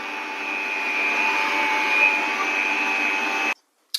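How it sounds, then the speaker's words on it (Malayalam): An electric hand mixer whirs steadily at high speed, beating eight eggs for an Easter carrot and dates cake; the loud, even motor drone runs alone for about three and a half seconds, then cuts off abruptly. "കുറച്ച് സ്പീഡ് കൂട്ടി വെച്ചിട്ട് തന്നെ ബീറ്റ് ചെയ്യാം നമുക്ക്."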